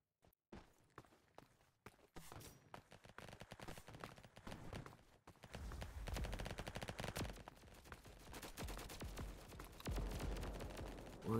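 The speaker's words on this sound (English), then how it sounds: "you will find a firework eventually. Oh, I think I just heard one." Firework blasts going off in a Roblox game world, a rapid crackling barrage of sharp pops that grows denser and louder partway through and keeps going, with no talking.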